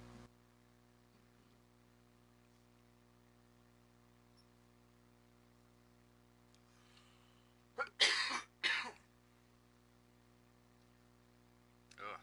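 A person coughs in a quiet room, a brief cluster of three harsh, close coughs about two-thirds of the way through, with a steady low hum otherwise and no speech.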